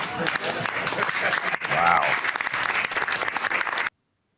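Applause in a room at a presidential cabinet meeting, with sustained, busy clapping and voices mixed in. It swells briefly midway, then cuts off abruptly into silence.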